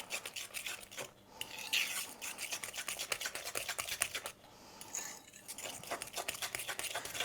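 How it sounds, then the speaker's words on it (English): A spoon scraping and stirring a thick cheese and egg dog treat mixture in a bowl, giving close rhythmic rasping strokes with brief pauses, steady and unaccompanied by talk. "we're going to mix this all together, and it's going to end up looking a bit like scrambled egg"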